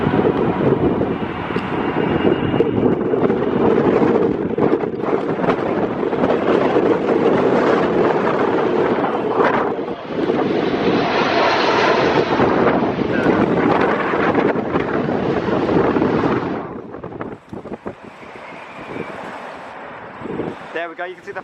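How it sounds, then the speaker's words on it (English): An Airbus A380 lands at London Gatwick in high winds, its engine roar and rushing air loud and steady with heavy wind buffeting the microphone, then easing near the end as the noise drops. "I wonder how the A380 will cope with this wind"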